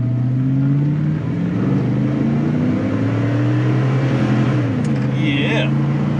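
A C8 Corvette Stingray engine revs and drones loudly up close, pitch rising and shifting through the run, with a brief higher whine near the end.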